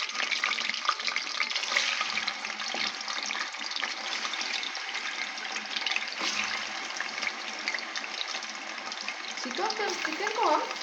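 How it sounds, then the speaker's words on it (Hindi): Chicken fries in oil in a kadai over high flame, a constant close hiss of frying with a watery, bubbling texture, steady throughout and alone without talk. "चिकन को हम फ्राई करेंगे,"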